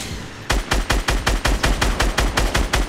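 Rapid automatic weapon fire in the video game Fortnite, a loud close burst of evenly spaced shots repeating about five times a second without pause.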